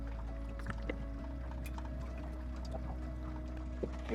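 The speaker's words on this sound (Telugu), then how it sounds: "సో ఇప్పుడు ఆయిల్ పోస్తున్నాను" Cooking oil poured into a pressure cooker aboard a boat in the middle of the Pacific Ocean, a soft, faint trickle over a steady low engine hum.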